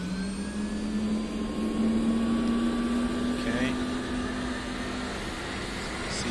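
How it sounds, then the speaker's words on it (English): An A-10's auxiliary power unit spools up in the DCS flight simulator, a steady whine rising slowly in pitch over a constant turbine roar, moderately loud and continuous throughout. "And we'll go ahead and do APU start."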